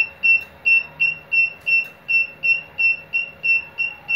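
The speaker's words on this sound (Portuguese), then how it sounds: "ele fica piscando a luz e dando bip" A ceiling fan's built-in alarm sounds a loud, regular series of short electronic beeps, about ten evenly spaced pulses, repeating over a quiet room with no talking.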